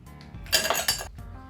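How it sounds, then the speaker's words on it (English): Ice cubes drop into a highball glass for a Kentucky Mule cocktail, a close burst of bright clinks and rattles lasting under a second, followed by one smaller clink. "We'll add a little bit of ice to that glass,"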